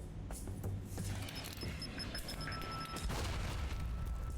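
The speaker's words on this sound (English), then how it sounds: "Let's use a flashbang." A flashbang grenade going off in the PC game Alpha Protocol, a loud broadband boom amid ongoing game noise, with a high ringing tone lingering afterward.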